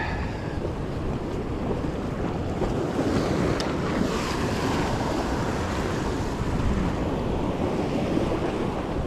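Waves roll in and break along a rocky shoreline on the New South Wales South Coast during rock fishing. The surf is a steady, loud, broadband wash mixed with wind buffeting the microphone, and no one talks.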